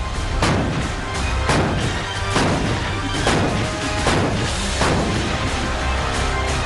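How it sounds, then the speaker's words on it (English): American M777 ultra-light artillery guns fire in a rapid series of heavy booms, roughly one every second, each a loud broadband blast over a continuous rumbling background. "In 2018, the Indian Army began inducting the American M777 ultra-light artillery gun"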